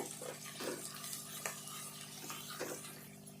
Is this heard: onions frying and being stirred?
yes